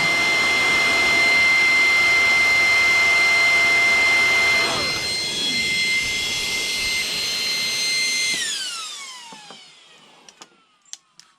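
A Game Changer RC Typhoon fan runs at max speed with a loud, steady jet-like whine, then spins down audibly over the last few seconds, its tone sliding lower into near silence with faint clicks.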